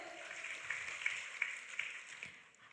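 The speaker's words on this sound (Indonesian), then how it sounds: "Tepuk tangan yang meriah dulu." An audience applauds at an education seminar with a steady patter of clapping hands that fades out near the end, fairly faint and heard from a distance.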